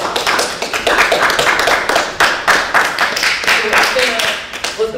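A crowd claps steadily for several seconds, a dense patter of many hands under a room echo.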